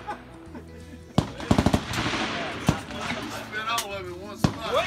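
An automatic firearm fires at an outdoor sawmill gathering: one sharp shot, then a quick burst of several rounds and a couple more loud single reports, with people talking nearby.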